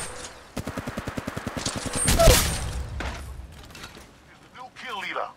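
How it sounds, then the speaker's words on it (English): Rapid automatic gunfire in the video game Apex Legends Mobile: a fast, evenly spaced burst of about fifteen close shots, then a heavy blast and lingering rumble, with a voice speaking near the end. "I'm taking the shot."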